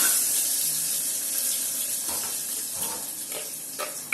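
Urad dal, garlic and chillies fry in a pan in a home kitchen for Tamil pulicha keerai kadaiyal, giving a steady close sizzle with a few stirring clinks and scrapes, no talking.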